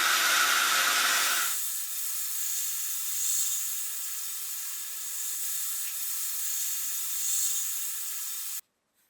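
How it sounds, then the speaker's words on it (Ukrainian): A sandblaster smooths the surface of an old Soviet blowtorch. It opens with a loud, rough blast, then settles into a long, steady hiss that cuts off abruptly. "Ще раз використовуємо піскоструй для згладжування поверхні."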